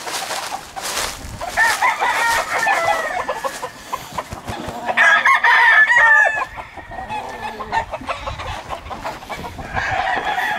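Chickens and roosters on a farm with caged birds: clucking and cackling hens mix with several rooster crows, some close and loud and others farther off, in a busy, overlapping barnyard chorus.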